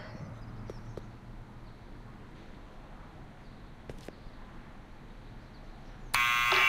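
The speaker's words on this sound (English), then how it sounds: "Buzzer?" In the Back to the Future video game, a harsh electronic buzzer suddenly blares loud and steady at the end, following a stretch of quiet ambience with a few faint knocks.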